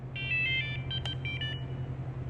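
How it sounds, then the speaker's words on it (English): A Hisingy Firefly drone's controller entering bind mode gives a quick string of short electronic beeps in two pitches, followed by one sharp click, then quiet over a low steady hum. "You hear that beep beep, and now the LEDs stop."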